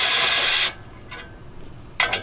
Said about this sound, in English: I'm going to use the drill I've set up with the socket, and we're just going to reverse this out of here